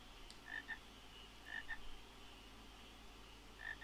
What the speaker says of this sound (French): Il y a des grenouilles.